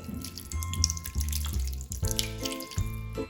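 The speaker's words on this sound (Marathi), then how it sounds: "तर हे पूर्णपणे आपल्याला चोळून धुवून घ्यायची आहे याच्यामध्ये मीठ आणि हळद पूर्णपणे काढून घ्यायचं आहे" Bitter gourds are rubbed and rinsed under a running kitchen tap, water splashing steadily into a sink with shifting gurgles and hand movements, close and continuous with no talking.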